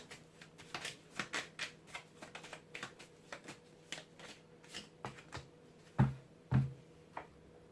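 Whispering Woods oracle cards are shuffled by hand for a tarot reading, giving a steady, quiet run of close papery riffles and flicks that ends in a couple of louder taps as the deck settles.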